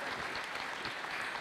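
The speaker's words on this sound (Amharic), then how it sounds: "አጨብጭቡላት።" Steady applause from a church congregation at a prophetic gathering, continuous and fairly full throughout with no voices over it.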